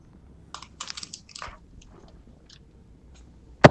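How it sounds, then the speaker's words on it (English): Someone chews food close to a microphone, a few soft crunchy bites and mouth clicks spread over a few seconds in a quiet room, ending with a sharp louder knock. "Could hear you chewing, mate."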